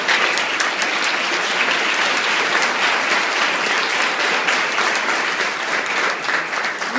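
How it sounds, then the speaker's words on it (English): A crowd at a community meeting applauds donors to a newly established fund, loud sustained clapping from many hands that holds an even level throughout. "let's give everybody a round of applause that donated so far"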